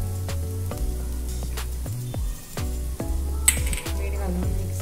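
Cauliflower curry sizzling in a pan while being stirred, a continuous close hiss broken by clinks and scrapes of a utensil against the pan, with a low tonal hum underneath.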